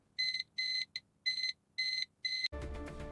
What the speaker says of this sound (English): the unit will beep when the correct code is detected